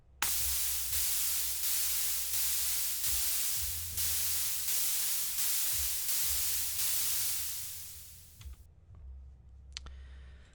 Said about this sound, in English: Sounds like white noise.